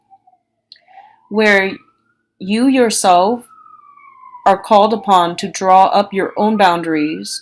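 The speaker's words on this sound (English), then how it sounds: "excuse the siren." A passing siren sounds as a thin, faint, steady wail beneath a person talking close to the microphone.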